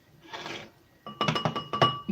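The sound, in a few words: half-frozen ice cube tray clinking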